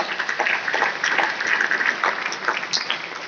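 Audience at a corporate special event giving a round of loud applause, uneven bursts of many hands clapping close by, with some muffled crowd noise mixed in.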